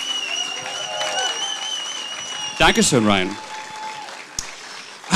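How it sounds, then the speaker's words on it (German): Crowd applause at an outdoor lesbian and gay street festival, rising briefly after a performer is thanked over a microphone, mixed with a steady tone and the announcer's voice. "Und nochmal einen deftigen Applaus für Ryan Stecken."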